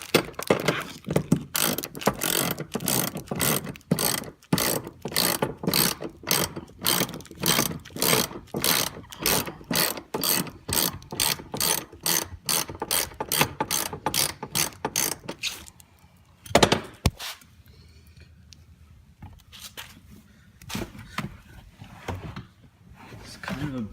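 A ratchet tightens racing seat bolts in an Infiniti G35, with fast, close, regular clicking strokes in bursts that stop, leaving a quieter stretch with a few scattered mechanical clunks.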